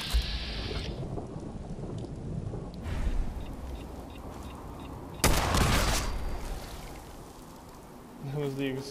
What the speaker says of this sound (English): That was the exploding mole rat